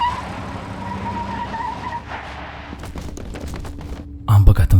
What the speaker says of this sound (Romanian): Am întors camioneta și am frânat brusc